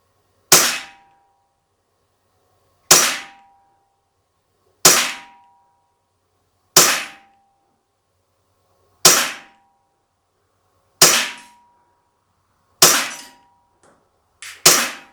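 Umarex Glock CO2 BB pistol fired in eight sharp, loud single shots at steady intervals of about two seconds, each a crisp crack with a short metallic ring, alone with no talk.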